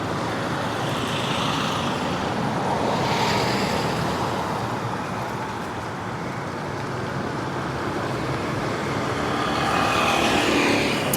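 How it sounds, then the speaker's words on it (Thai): Steady roadway noise on a street in Vientiane, Laos, with trucks and other vehicles passing by near a petrol station, a continuous broadband rush that swells and eases as vehicles go past, no voices. "รถบรรทุกไงผ่านเข้ามาหลายเลย"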